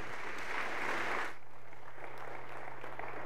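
A church congregation applauds, a dense burst of clapping that fills the room for over a second and then fades to a quieter scattered patter.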